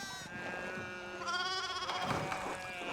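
Sheep bleat in the video game Renaissance Mystery: a few wavering, nasal animal calls, moderately close over a faint steady background, with no talking.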